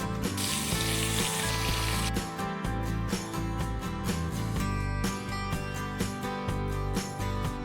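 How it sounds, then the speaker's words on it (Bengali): Bata fish frying in hot mustard oil in a wok, a loud continuous sizzle with crackling bursts throughout, close and alone with no talk. "কড়াইতে কিছুটা সর্ষের তেল নিয়েছি, গরমও করে নিয়েছি। এর ভিতরে একে একে বাটা মাছগুলো দিয়ে দেব।"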